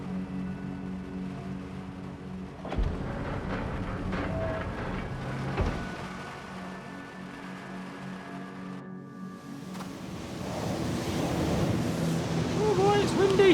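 Wind in a video game rushes and gusts steadily in freezing conditions, swelling louder toward the end, with a low mechanical hum and a few thuds underneath.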